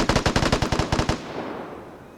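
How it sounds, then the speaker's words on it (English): Rapid automatic gunfire from the video game Vigor, a tight burst of about a dozen loud, evenly spaced shots lasting around a second, then a fading echo tail. "He just gunned down one person."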